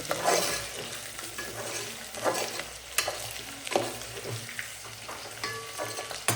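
Potato chips and mustard seeds fry and sizzle in hot oil for a fasting-day snack, with steady crackling and repeated stirring scrapes of a utensil in the pan, close and without talk.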